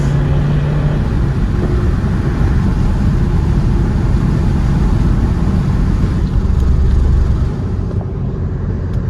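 A turbo diesel Volkswagen Golf TDI engine rumbles loud and close, a deep steady drone that holds for several seconds with no one speaking.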